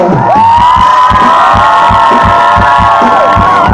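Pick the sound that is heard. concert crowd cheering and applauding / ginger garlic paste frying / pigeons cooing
concert crowd cheering and applauding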